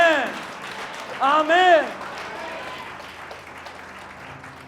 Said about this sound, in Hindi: जोर से ताली बजाओ प्रभु।